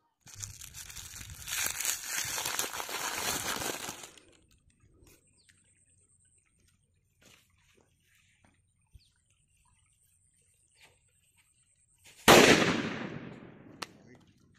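A paper bomb firecracker, a cheap Indian festival cracker, fizzes loudly for a few seconds after being lit, goes quiet, then bursts with a sharp, crackling explosion that decays into rattling debris.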